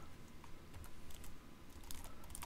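Quiet computer keyboard typing, a few light, scattered keystrokes over a steady background hum.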